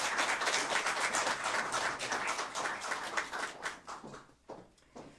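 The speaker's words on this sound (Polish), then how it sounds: "Wielkie brawa." Audience applause at a youth literary contest awards final, as a third-place prize is announced; dense clapping fills the room, steady at first, then thinning into scattered claps.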